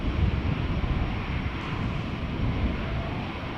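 An airliner departing Amsterdam Schiphol Airport produces a loud, steady, broadband jet roar that holds without a break, up close and alone.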